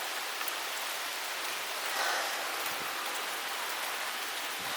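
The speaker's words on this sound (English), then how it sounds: "It's raining like a motherfucker." Heavy rain falling steadily with a dense, even hiss of drops on hard surfaces nearby, loud and continuous, with no voices.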